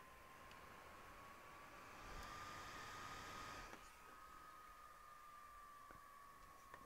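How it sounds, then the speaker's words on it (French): The cooling fan of an electronic device starts up, giving a faint, steady whir with a thin sustained tone over soft hiss, and no talk. "Il y a un bruit de ventilo."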